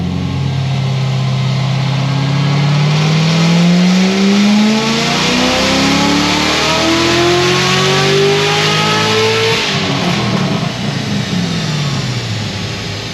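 A Chevrolet Corvette C7 Z06 on a dyno power run, its engine note climbing steadily through a long, loud rev before dropping back off near the end, close and without talk.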